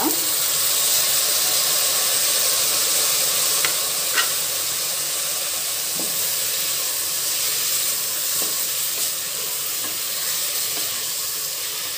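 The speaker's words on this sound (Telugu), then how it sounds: "ఇప్పుడు మనం ఇందులో పై పొట్టు తీసి కట్ చేసి పెట్టుకున్న ఒక ఎనిమిది టమాటాలను కూడా యాడ్ చేసుకుందాం" Eight peeled, chopped tomatoes added to a hot frying pan for tomato rice, a loud continuous sizzle and hiss with occasional stirring clicks, steady throughout without speech.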